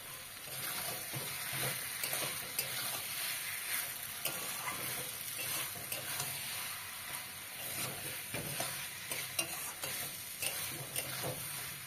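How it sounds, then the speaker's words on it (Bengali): Green peas stir-fried in a bean curry in a pan give a soft, steady sizzle with frequent light scraping and stirring clicks, fairly quiet and close, with no voices. "মটরশুঁটি দিয়ে আর একটু কষিয়ে নিতে হবে।"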